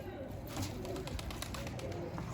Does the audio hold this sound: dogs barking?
no